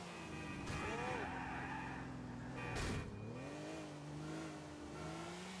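A car driven in the video game GTA 4, engine revs rising and falling with a couple of bursts of tire or impact noise, fairly quiet, with someone talking over it.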